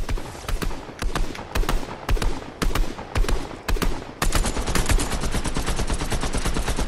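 Gunfire in Fortnite: bursts of loud, close automatic shots crack in quick rhythmic volleys, then settle into a sustained rapid stream of fire toward the end.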